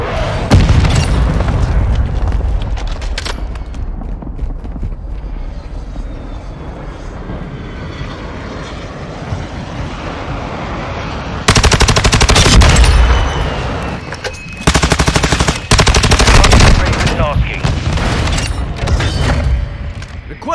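An AC-130 gunship fires on a target in Call of Duty Modern Warfare 2, with a continuous aircraft engine drone throughout and loud bursts of booming cannon fire and explosions in the second half.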